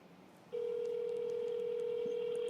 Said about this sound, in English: I'm going to call her at work and see what happens.